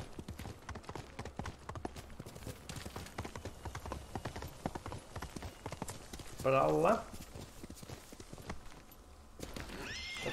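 Steady clip-clop of horse hooves at a brisk gait throughout in the video game Ghost of Tsushima, with a horse whinnying midway and a voice speaking briefly over the hoofbeats.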